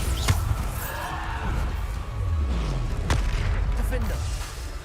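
Bombarda explosion spells in the video game Hogwarts Legacy go off as booming blasts, one sharp hit early and another mid-way, amid rumbling combat noise.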